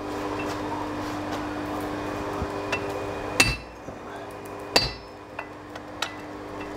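Hammer blows on heated sword steel during forging, heard as two loud sharp strikes near the middle with lighter taps after, over a steady background hum.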